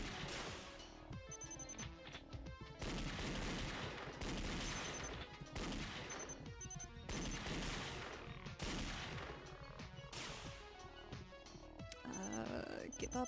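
Gunshots in the game Danganronpa Another ring out as a long series of rhythmic, evenly spaced bursts, loud and close, with bright chiming game effects layered between them and talk running underneath.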